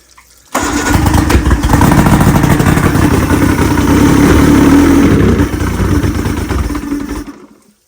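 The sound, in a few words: racing outboard motor starting then stalling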